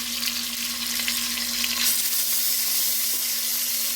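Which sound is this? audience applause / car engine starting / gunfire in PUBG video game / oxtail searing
oxtail searing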